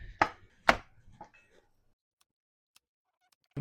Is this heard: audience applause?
no